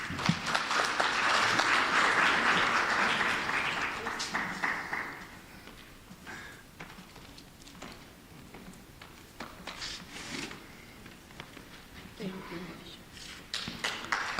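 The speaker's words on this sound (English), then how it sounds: "Another round of applause" An audience at the Northern Cape post-school education and training seminar claps loudly for several seconds. The applause then thins out into scattered claps with pauses between them, and a few louder single claps and taps follow.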